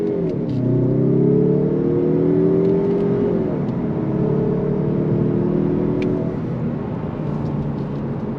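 A 2025 Mazda 3 Turbo engine pulls steadily on throttle through a tight U-turn, a loud close drone rising in pitch for a few seconds, easing, then building again with a smooth even hum.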